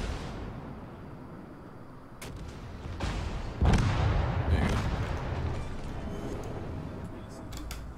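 Naval guns fire in the World of Warships video game as a few deep, booming blasts over a low rumble, with a voice speaking at times.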